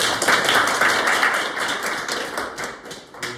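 Audience applause at a Korean finance team presentation, a dense burst of clapping that swells at first then gradually thins and fades, with no talk.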